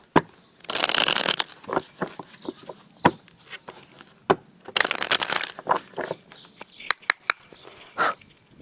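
A deck of tarot cards being riffled and cut by hand, two bursts of close, crisp shuffling separated by soft card taps and handling clicks.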